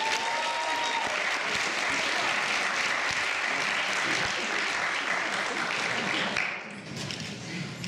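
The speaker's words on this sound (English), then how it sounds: "Clap." An audience of students in a university hall applauds loudly and continuously, dense clapping that dips briefly near the end before carrying on.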